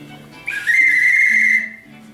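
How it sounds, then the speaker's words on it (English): A single shrill blast from a White Star Line officer's whistle, a steady piercing tone held for about a second close to the microphone, with faint background noise around it. "is a White Star Line whistle that the officers would have had, of course, on board the White Star Line."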